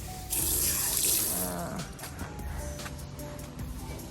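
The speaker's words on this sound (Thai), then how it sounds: "ก็จะมีจุดล้างมือ" Water runs from a tap at an outdoor hand-washing point of a Thai resort restaurant, a close, steady splashing stream that starts abruptly and keeps flowing.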